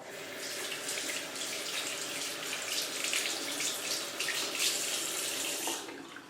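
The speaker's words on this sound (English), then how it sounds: "First, turn on the water and get your hands wet." A tap runs water over hands being wet at a sink, a steady, fairly loud hissing splash that continues for about six seconds before cutting off.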